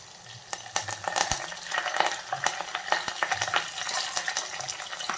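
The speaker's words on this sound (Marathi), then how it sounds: "3 हिरव्या मिरच्या आहेत. आणि याच्यानंतर आपण कढीपत्ता टाकून घेणार आहे." Green chillies and curry leaves sizzle and crackle in hot oil, with close, sharp pops and spatters and the scrape of stirring breaking through the frying hiss.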